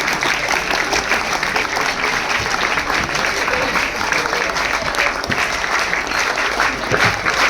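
A loud, dense burst of applause from an audience at a documentary inauguration event, sustained and even for several seconds with no pause.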